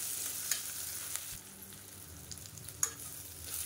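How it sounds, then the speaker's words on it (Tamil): Onions sauté in a pan for a Madurai-style mutton curry, a soft steady sizzle with a few sharp utensil taps and scrapes, fairly quiet and with no talking. "இப்போ வெங்காயம் நல்லா வதங்கிடுச்சு."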